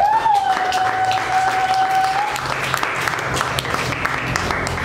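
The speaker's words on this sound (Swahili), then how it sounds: "Tumpigie Mungu makofi kwa hilo." Applause from a church congregation during a Swahili worship service, steady broadband clapping filling the whole stretch, with a sustained whistle-like tone ringing over the first half and faint voices mixed in.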